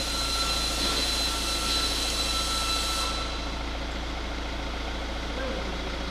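An Opel Vivaro van engine running during a major service, a steady low idle hum whose higher whine fades away partway through as the revs settle smoothly; no speech is heard.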